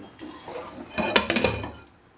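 A spoon scrapes and clinks inside a metal cooking pot of mutton with tamarind leaves, ending in a short metallic clatter of a lid being set on, brief and fairly close.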